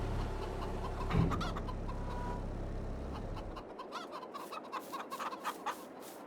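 Chickens cluck in the farm video game Farming Simulator 22, faint and intermittent, over a low engine-like drone that drops away partway through, leaving short clucks and chirps alone.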